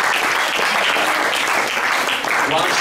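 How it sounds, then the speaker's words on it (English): Congregation at a church service clapping enthusiastically, a dense, loud, unbroken round of applause throughout with no speech on top. "Let's give Jesus a big hand clap."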